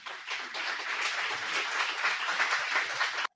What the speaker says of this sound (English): Definitely deserve that clap.